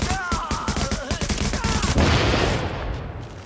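Rapid bursts of gunfire from the video game The Division on PS4, close and loud, with dense overlapping shots and an explosion-like roar swelling in the second half, no talking.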